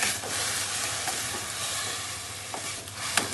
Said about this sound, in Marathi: मग दूध आटेपर्यंत असंच परतून घेऊया हलवत राहा